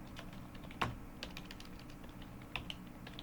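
Faint, sparse keystrokes on a computer keyboard in a quiet room, with one sharper isolated clack near the start and a couple of light taps later, no talking.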